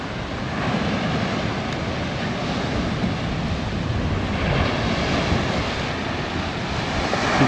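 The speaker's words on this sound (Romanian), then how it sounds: "Valuri mari." Big ocean waves break steadily on a beach at Tangalle, Sri Lanka, a continuous loud roar of surf with wind buffeting the microphone throughout.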